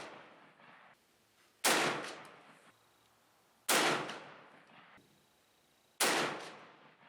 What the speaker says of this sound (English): So it was pretty cool to go shoot our first rounds to this 1903 Springfield